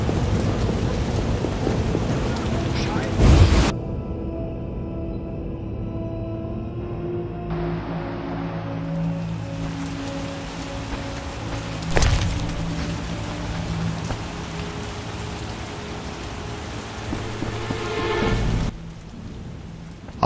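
Steady heavy rain pours throughout in the video game The Witcher while rumbles of thunder break in a few times, with sharp cracks standing out above the downpour.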